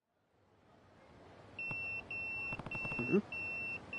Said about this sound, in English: That's my beeper.